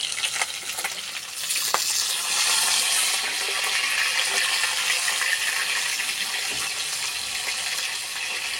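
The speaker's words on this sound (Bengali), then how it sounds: "মাছগুলো ভেজে নেব।" Fish sizzling steadily as it fries in oil in a pan, a loud continuous crackle close by with no talk.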